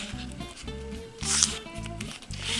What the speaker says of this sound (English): So let's begin white side up and fold in half both